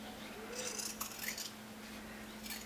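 Scissors trim the thick edge of a cut denim jeans hem, giving a few close, crisp snips and rustling fabric over a steady low hum.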